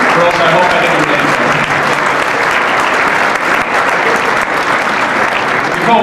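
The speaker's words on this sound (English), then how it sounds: "So let's have a big round of applause." Loud, sustained applause from a large crowd at a sports awards ceremony, a dense continuous wash of clapping filling the whole stretch.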